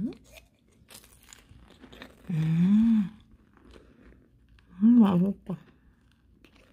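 Handmade nougat crackers are bitten and chewed close up in two crunchy bursts a couple of seconds apart, with quieter chewing between them. Someone speaks briefly.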